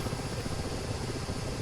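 A Ka-50 Black Shark attack helicopter flies in a video game simulation, its rotor and engine producing a steady, dense whir with a low rhythmic thrum throughout, constant and fairly loud.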